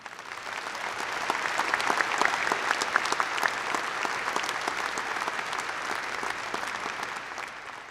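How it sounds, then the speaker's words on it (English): A large crowd applauding at a university spring commencement ceremony, a dense, steady wash of clapping that holds strong for several seconds with no voices on top. "How about a round of applause for Molly Raymond?"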